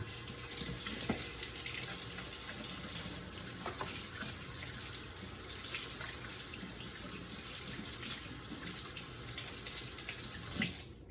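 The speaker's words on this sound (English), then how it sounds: "I'm first going to start out by washing my hands." Hands are washed under a running tap at a sink, a steady close stream of water with faint splashes and rubbing throughout, no talking.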